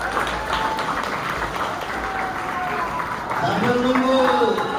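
An audience at an SMK Infokom school event claps in a dense, continuous wash of applause that grows slightly louder toward the end, with voices mixed in.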